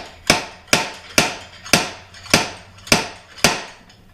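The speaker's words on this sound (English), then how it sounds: "So you'd tap on it a couple times, probably 4 times or so with the puller" Seven sharp metallic taps on a puller during a rebuild of a 1964 Dodge Custom 880, evenly spaced about half a second apart, loud and close with short ringing decay.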